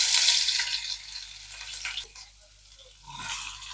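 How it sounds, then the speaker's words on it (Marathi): Ginger garlic paste goes into a frying pan with curry leaves, mustard seeds and cumin, bursting into a loud sizzle that fades within a second, followed by scraping stirs and a brief renewed hiss at the end. "तर तर तर आवाज येणार बघ म्हणजे आता आळा लसूण पेस्ट"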